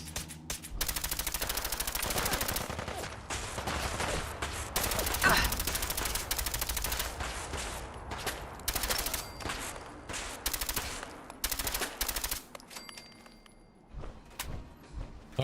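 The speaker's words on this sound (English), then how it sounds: "But we have explosive bullets." Rapid automatic gunfire with explosive rounds in the video game Fallout 4, dense continuous bursts for most of the stretch, loud and close, thinning into scattered shots near the end.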